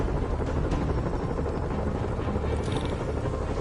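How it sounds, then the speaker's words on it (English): Helicopters in a Spider-Man video game make a loud, continuous low rotor chop and engine drone that holds steady throughout, with no talk over it. "Bet I can use those helicopters to swing."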